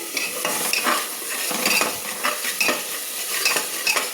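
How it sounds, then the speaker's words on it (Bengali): Onions frying in oil with salt are stirred in a pan, a steady sizzle under repeated scraping and clinking strokes of a spoon against metal, close and busy with no voices. "দিয়ে আমি ভালো করে নেড়ে নিচ্ছি।"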